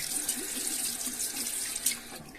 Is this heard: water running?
yes